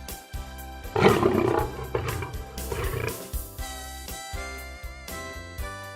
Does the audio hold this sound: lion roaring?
yes